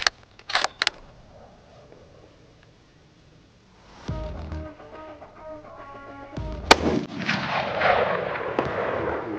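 A Ruger American Gen 2 rifle in .308 fires outdoors with loud, booming reports that echo and roll away, preceded by a few sharp mechanical clicks, with no talking.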